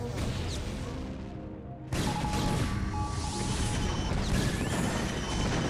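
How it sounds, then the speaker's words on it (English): Siege tank cannon fire and battle noise from StarCraft: Brood War Remastered on Heartbreak Ridge, tanks carrying a +2 attack upgrade: dense, continuous crashing explosions and impacts that swell louder partway through, with no voices. "the tank fire is too dang scary, especially with that +2 attack"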